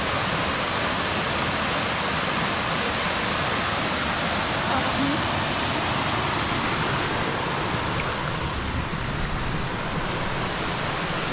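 A waterfall roars loud and close, a dense, unbroken rush of falling water filling the whole soundscape without pause.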